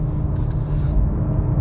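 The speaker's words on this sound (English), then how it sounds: "Yes, this car is flipping quick." A 2022 Audi RS3 Sportback Launch Edition on the road gives off a steady, deep engine and road rumble heard from inside the cabin, loud and continuous through the short moment, with no voices.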